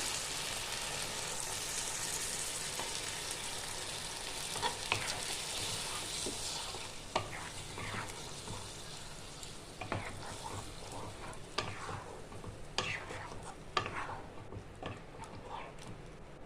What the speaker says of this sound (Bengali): আমি এবার জল দিয়ে দিচ্ছি, মশলার জলটাই আমি দিয়ে দিলাম।